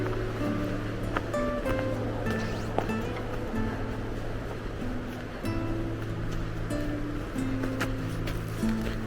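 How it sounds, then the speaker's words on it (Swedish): Water rushing and waves washing continuously, a broad steady surging noise that fills the whole stretch, with a low tonal hum running underneath. "Bruset av vatten. Det ger alltså ett lugn."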